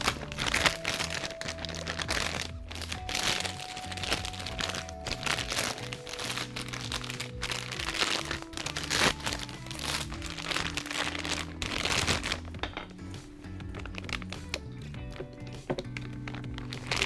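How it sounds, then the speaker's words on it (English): Ravioli filling is pushed into a plastic piping bag, giving close crinkling plastic rustles, soft thunks and scraping bursts against a low background hum. "What I'm gonna do right now is transfer this into a piping bag to get it ready to pipe into our raviolis."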